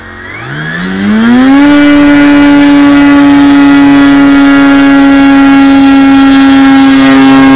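Propeller motor of a large Aquila sailplane converted to a motor glider, spooling up over the first second and then holding a loud, steady, high-pitched buzzing drone at throttle, close by.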